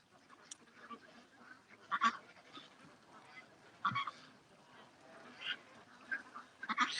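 Ducks quacking and honking in short bursts from a small flock, moderately close, with quieter calls scattered between louder clusters.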